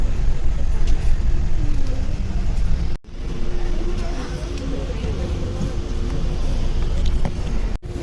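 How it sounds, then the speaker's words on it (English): A double decker bus idles and rumbles in a crowded parking area at the Expo 2020 grounds, a steady low engine drone mixed with surrounding traffic noise and people talking nearby. "So this was our bus, double decker."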